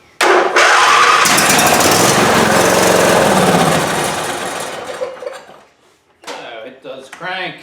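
Craftsman lawn tractor engine cranking after sitting unused since last year, with starting fluid added: a loud, rapid mechanical churning that runs for several seconds, then slows and fades, followed by a short burst of speech.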